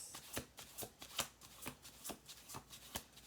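A deck of tarot cards riffled and shuffled in quick repeated bursts of crisp papery flutters, close up and steady, with no talking.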